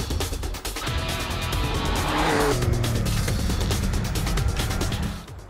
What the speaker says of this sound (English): The main aspect, the main effect is coming from the turbocharged engine right now